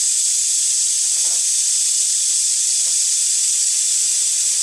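An injection molding machine lets out a continuous hydraulic hiss as its ram comes down, a steady, fairly loud airy rush with no pauses.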